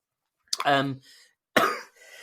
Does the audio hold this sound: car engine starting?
no